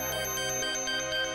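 A phone ringtone chimes in a repeating tonal pattern, with bright pulses recurring steadily and no talk over it.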